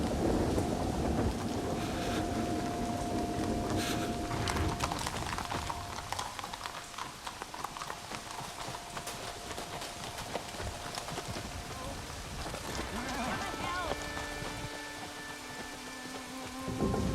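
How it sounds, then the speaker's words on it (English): Rain pattering steadily during a storm, with horse hooves clip-clopping and scattered clatter in a medieval outdoor scene, moderately loud, and voices and tonal sounds faintly mixed in. "Abbot, Marcus, we seek shelter from the storm."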